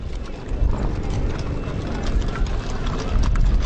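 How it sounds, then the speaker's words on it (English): Horse hooves of a horse and carriage clip-clop steadily on pavement at a Martin Luther King Day parade, with a busy outdoor crowd murmuring in the background. "we've got the horse and carriage coming through"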